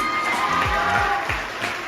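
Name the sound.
applause and cheering for the team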